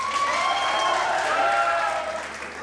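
On a Pakistani TV comedy talk show, a studio audience claps in a full, steady round that fades slightly at the end, with a few cheering voices mixed in.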